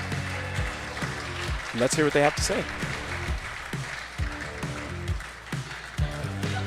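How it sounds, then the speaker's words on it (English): Audience applause and cheering at a pickleball match, a steady crowd roar and clapping heard under loud announcer talk over the arena sound system. "Let's give him a big round of applause."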